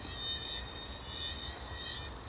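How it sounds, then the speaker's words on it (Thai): Frogs calling at night in a rural garden, heard as a steady, dense high-pitched trilling chorus from many animals, moderately far, continuous and without speech. "เสียงกบเสียงเขียดแบบร้องเพลงแบบไพเราะมากตอนนี้"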